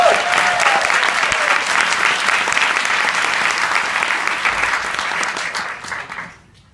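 Audience applause at a live evening event with Greg Sestero for The Room, a loud, dense, sustained ovation from a large crowd that holds steady for several seconds before tapering off at the end.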